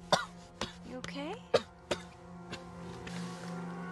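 A man coughs several times in sharp, irregular bursts close by, mixed with throat clearing and voices in the background.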